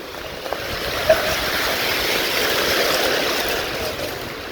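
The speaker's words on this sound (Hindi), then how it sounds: "देखो कितना तेज पानी आ रहा है" Water rushes and churns steadily in a broad, continuous roar, with no voices over it.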